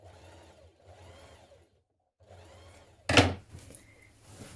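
A sewing machine understitches the seam toward the back neck facing of an unlined spring jacket in short bursts with brief pauses, then a sharp thunk of the fabric or machine being handled near the end.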